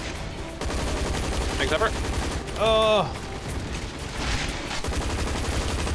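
A steady rattle of rapid gunfire runs through a chaotic Zombies Monsters Robots firefight against dinosaurs. A voice speaks briefly over the shooting midway.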